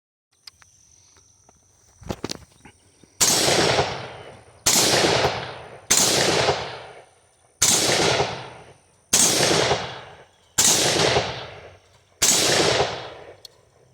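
SCAR rifle being test fired outdoors: seven loud, sharp single shots spaced about a second and a half apart, each with a decaying echo, after a few faint handling clicks.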